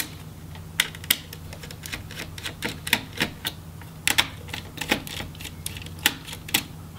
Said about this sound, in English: now we can remove those heatsink screws